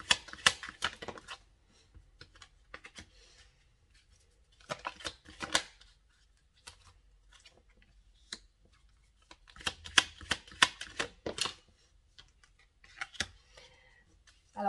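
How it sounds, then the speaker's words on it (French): Oracle cards shuffled close up in repeated crisp flurries of riffling and slapping, with brief quiet pauses between bursts and no talk. "On va regarder qu'est-ce qui ressort avec les cartes des oracles pour l'état d'esprit de votre hôte."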